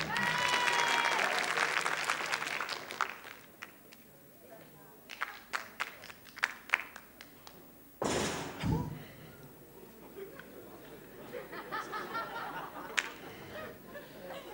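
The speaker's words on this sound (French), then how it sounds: "On peut applaudir la balance." A French television studio audience applauds on a vintage variety show, a dense burst of clapping at first that fades, followed by scattered sounds, a sharp thump and murmuring voices.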